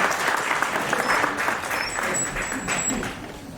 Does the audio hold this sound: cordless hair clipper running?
no